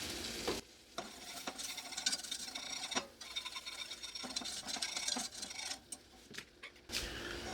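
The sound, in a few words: whisking melted butter and flour in pan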